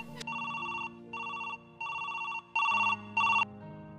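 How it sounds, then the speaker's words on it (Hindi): A telephone ringing in repeated electronic bursts, five rings in about four seconds with short gaps between, clear and close with a low hum underneath. "लो ये लो, बेल जा रही है।"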